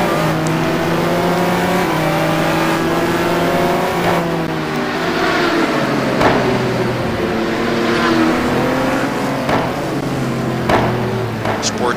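Race cars including a Ferrari 550 and a Lister GT1 roar along the Nurburgring circuit, engines loud and close with steady revving, gear shifts and rising and falling pitch as the cars battle nose to tail, with a voice talking over the din.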